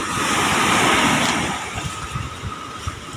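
Large ocean waves surge and wash in a broad, rushing roar that swells and then fades into scattered low rumbling as the water recedes.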